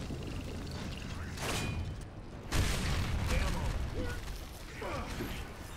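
Grenade blasts and gunfire from Gears of War 2 multiplayer on Xbox One: heavy booming bursts and clattering mechanical shots erupt amid a dense, noisy battle mix.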